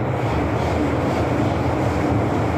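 A crowded commuter train rides along with a steady rumbling roar and faint rhythmic rattle, continuous and fairly loud throughout.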